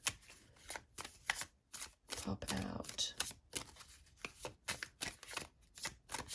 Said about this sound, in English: I'm going to shuffle these a little bit longer